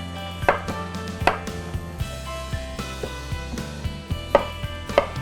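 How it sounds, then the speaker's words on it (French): Potatoes being chopped into cubes on a board, with close, sharp knife strikes in an uneven rhythm over a steady background hum; no one speaks. "On va couper aussi les patates en cubes."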